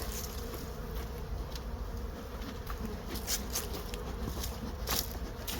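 Honey bees buzz at the hive in a dense, steady drone, with individual insects flying close by now and then, and no talking.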